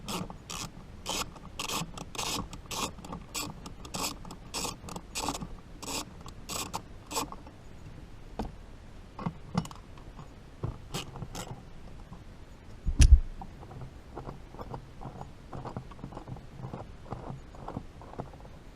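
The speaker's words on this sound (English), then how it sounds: "grab your 13mm ratchet with its long extension and the 13mm socket. And you just want to undo those two nuts" A 13mm ratchet on a long extension clicks rapidly while undoing two nuts under the dash of a Ford Focus, the quick ratcheting bursts close and crisp, then slowing into scattered clicks with one sharp knock.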